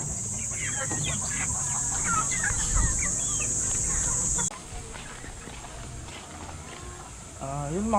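Farmyard chickens clucking in a steady babble of clucks, with a rooster among them and other background sounds, all loud and close throughout.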